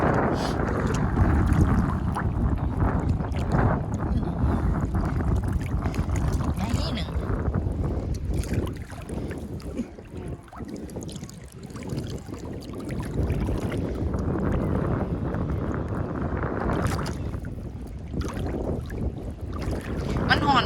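Steady wind buffets the microphone outdoors near water where shellfish are being gathered, a continuous rumbling roar lasting throughout while people talk.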